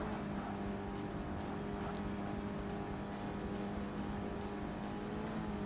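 A D-Class race car in Forza Motorsport drones steadily at a constant pitch, a faint sustained engine hum with no clear revving changes and no talking.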